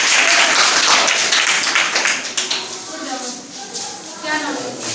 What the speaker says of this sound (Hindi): आप सब लोग बच्चों के लिए ताली बजाइए।